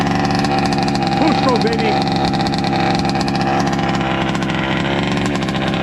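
A Baja engine runs at a steady idle after its first start in five years, loud and close with a constant throbbing drone, as a voice speaks briefly over it.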